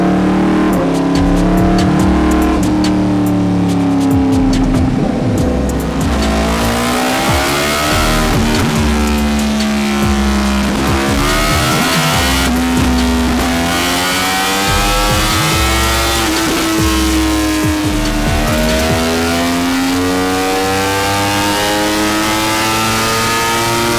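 A Yamaha MT10 engine fitted into an R1 sport bike runs roughly and unevenly, loud and close, with repeated rising and falling revs and a harsh, stumbling drone throughout.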